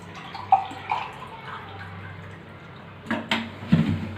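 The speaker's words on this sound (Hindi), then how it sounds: "ये मैं पानी ले रहा हूँ।" Water poured into a glass while measuring about one to one and a quarter glasses for a homemade herbal joshanda tea, heard as a quiet splashing trickle with a few brief louder splashes near the start and end.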